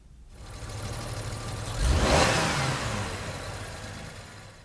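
A car engine revs sharply in a snap throttle test during a MAP sensor check, rising to a loud peak midway and then easing back toward idle, heard close with no talk.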